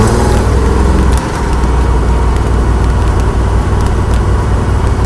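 A Datsun 240Z drives through heavy traffic, its engine a loud, steady drone with road rumble filling the cabin, unbroken and close throughout.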